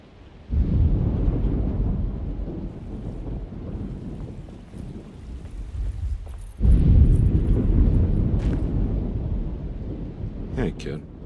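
A thunderstorm in the video game Alone in the Dark (2024) rumbles as two long, loud rolls of thunder over wind and rain, with faint sounds above.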